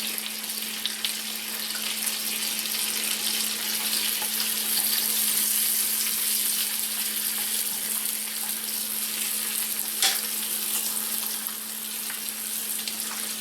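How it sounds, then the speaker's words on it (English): Sautéed mushrooms bubble and sizzle steadily in a pan for a Hamburger Helper dinner, a continuous even hiss over a constant low hum, with no talking. "This over here continues to bubble away."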